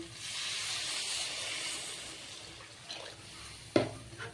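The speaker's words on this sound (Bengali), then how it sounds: "ভালো করে মশলাটাও ভাজা হয়ে গেছে এবার আমি ঝোল দিয়ে দেব" Hot broth hits fried spice paste in a pan while cooking a vegetarian yellow pea and soya bean curry, giving a loud steamy hiss that fades over a few seconds, followed by a couple of soft clinks.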